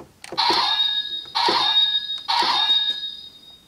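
A DX ExGotchalibur toy sword plays its basic attack sound effect: three bright electronic bursts in quick succession, each a shrill ringing chime that decays before the next.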